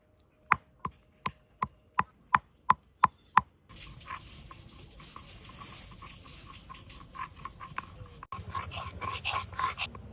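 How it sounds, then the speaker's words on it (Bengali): Garam masala spices are ground into a paste, starting with about nine sharp, evenly spaced knocks, then a steady rough grinding scrape that continues close by. "গরম মশলাটা এখন বেটে নেবো"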